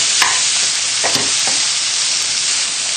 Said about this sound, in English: the mushrooms and the chicken just continue to cook